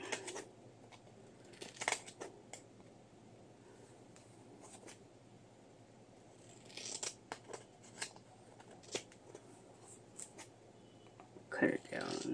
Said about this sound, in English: Cut it down on this side too, just a little bit.